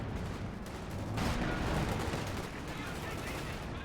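A major artillery barrage in a multiplayer strategy video game builds as a dense, continuous rumble of explosions and gunfire, swelling in the middle, with a voice talking over it.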